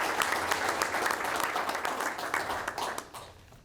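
A crowd at a town board of selectmen meeting breaks into steady applause, many hands clapping together in a continuous, moderately loud roomful of sound that thins out toward the end.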